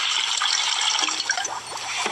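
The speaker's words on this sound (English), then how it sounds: "Pour some vinegar into a pitcher." Vinegar poured from a container into a pitcher makes a bright, steady trickling splash that lasts the whole two seconds, with a slight gurgle toward the end.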